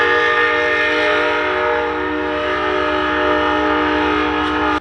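A loud, steady train horn blares close by over the heavy rumble of a train rolling past.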